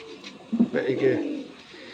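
A pigeon coos nearby in a soft, throaty burble, with a voice speaking over and around it.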